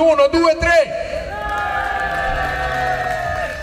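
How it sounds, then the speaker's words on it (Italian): Crowd at an outdoor revival band concert during a town festival in Marotta cheers and shouts, with applause mixed in; a brief burst of voices at the start gives way to sustained, loud crowd noise. "vorrei sentire un urlo, ma attenzione, un urlo con l'applauso"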